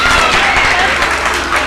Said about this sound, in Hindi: आप सबसे गुजारिश है कि थोड़ी सी तालियां इनके लिए।